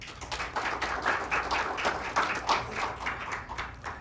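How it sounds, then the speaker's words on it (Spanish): Audience applause welcoming a speaker at an academic debate on administrative law, quite faint, steady scattered clapping from a modest crowd lasting several seconds with no talk over it. "Recibimos con un fuerte aplauso."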